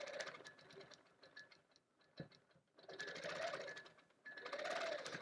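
A sewing machine stitches in the ditch along a quilt's border and thin sashing, running in quick bursts of rapid mechanical ticking separated by brief pauses, close and fairly quiet.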